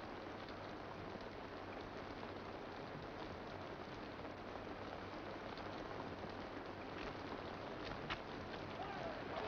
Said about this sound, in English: This is the sign, a flood of rain.